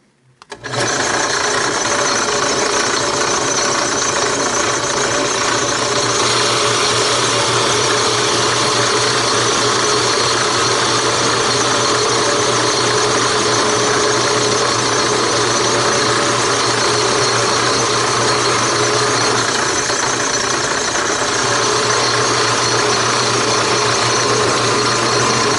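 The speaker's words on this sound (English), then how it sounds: "Let's go ahead and drill." A drill fitted with a depth stop bores a window into a wooden toy, producing a loud, continuous mechanical whir that runs steadily for over twenty seconds with no talking.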